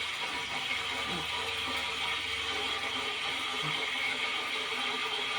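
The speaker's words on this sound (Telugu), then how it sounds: "ఆయిల్ వాటర్ పడ్డాయి లైట్గా బాగా సౌండ్ వస్తుంది" Hot oil spits and crackles in a pan after water drops fall into it, a dense, steady hiss of fine splutters heard close up, with no talking.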